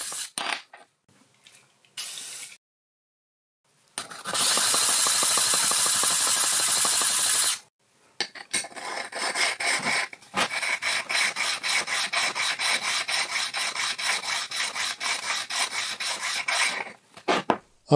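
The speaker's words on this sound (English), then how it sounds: "I'm honing down the faces of this triangular stone" Harsh abrasive scraping as the faces of a triangular sharpening stone are honed on a pair of diamond stones, with a few short strokes, then a long loud rasp and a steadier run of rubbing passes.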